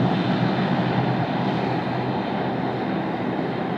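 A Korean Air Boeing 787-10 airliner taxiing at Sydney Airport, its engines a steady, loud broadband roar that holds without pause and with no voices.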